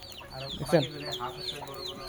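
Fayoumi hens and local desi chickens with chicks cluck softly and repeatedly nearby on a farm, with one sharper, louder cluck standing out among the quiet calls.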